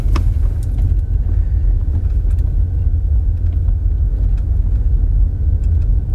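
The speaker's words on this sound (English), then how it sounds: "I thought I'd take you on a little drive with me, a little cinematic drive here" A car drives along with a steady, loud low rumble of engine and road noise from inside the cabin, continuous and unbroken with no talking.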